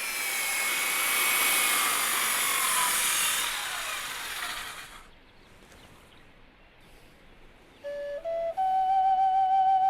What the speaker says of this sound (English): Even Joe occasionally swaps a chisel for an electric saw to speed up a job.